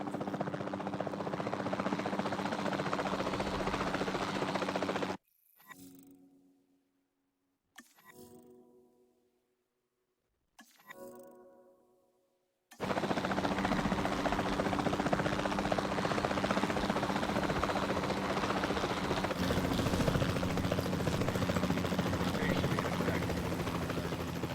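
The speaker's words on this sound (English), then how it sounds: "Then the sensible thing is to take a capture team helicopter." A capture team helicopter in the video game Jurassic World Evolution 2 drones with a steady rotor whir, cut by a few seconds of near silence and sparse blips, then returns just as loud and continuous.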